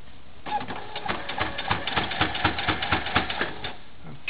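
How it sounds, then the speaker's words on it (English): A sewing machine runs steadily, its needle stitching through fabric in a fast, even mechanical rhythm for several seconds before slowing to a stop, close and alone. "all of this has to go underneath into my sewing machine"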